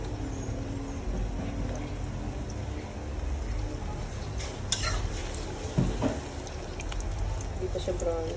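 An egg fries in a pan with a steady, soft sizzle and occasional scrapes of a spatula, while people talk quietly over it.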